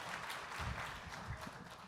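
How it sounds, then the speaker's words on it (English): An audience at a panel discussion gives Seth a faint, distant round of clapping, a soft continuous patter that lasts under two seconds. "You can applaud for Seth, that's fine."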